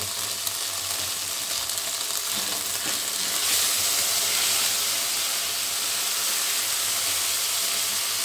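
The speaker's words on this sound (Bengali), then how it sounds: "তেলটা বড্ড ছিট করছে" Hot oil spattering in a pan with a bay leaf added, a bright continuous sizzle with crackling pops that grows a little louder partway through.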